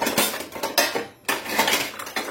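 Pots, pans and cutlery clatter and clank in a home kitchen as someone rummages for a wok, a busy run of close metallic knocks and scrapes with one short pause partway through.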